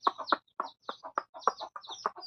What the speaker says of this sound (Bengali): ছোট ছোট বাচ্চা, আমার মুরগির বাচ্চাগুলো দেখো